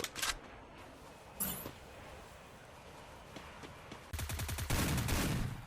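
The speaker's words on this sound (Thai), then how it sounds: "แล้วมีคนยิงกันอีก เขายิงน้องผมผมยิงเขาไป" Bursts of automatic gunfire in the battle-royale shooter Free Fire: a short volley near the start, a lone shot mid-clip, then a long, loud rapid-fire stream across the last second and a half.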